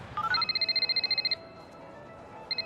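A cartoon telephone rings in a rapid electronic trill, a run of quick pulses that stops, then starts again after a short pause, clear and fairly near.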